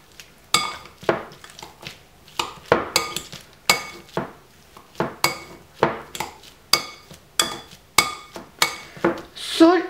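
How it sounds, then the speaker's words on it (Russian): Boiled potatoes and butter being mashed in a pot, a steady run of repeated metal clinks and thuds as the masher strikes the pot bottom, close and fairly loud with no talking. "Я отварила картошку уже, добавила сюда масло. И сейчас нам нужно просто сделать картофельное пюре."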